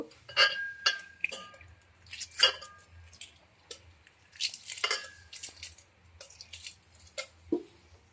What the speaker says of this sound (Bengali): এবার ডিমগুলোকে ছাড়িয়ে নেব